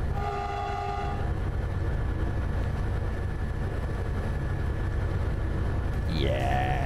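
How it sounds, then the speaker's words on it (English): A Yugoslavian shunter locomotive in the Derail Valley train game sounds its horn: a steady tonal blast opens over rumbling engine noise, cuts off after about a second, and a rising second horn note begins near the end. "Let's do honk."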